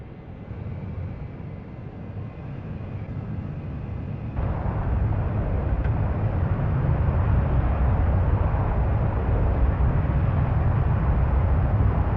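An AJS37 Viggen jet engine in DCS at takeoff roars steadily, then surges louder and fuller as the afterburner lights partway through, a sustained close rush of noise.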